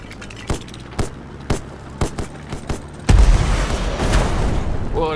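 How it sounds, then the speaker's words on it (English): Torpedo explosion in the video game Black Skylands: a series of sharp booms and pops, then a loud deep blast at about three seconds that rolls into sustained rumbling debris, with a faint rising tone at the end. "At least one torpedo did manage to land."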